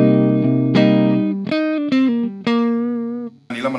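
An electric guitar played through a Cuvave Cube Baby multi-effects unit on its US Go 50B tweed amp simulation rings out a series of loud, sustained, distorted chords and single notes, alone without any voices.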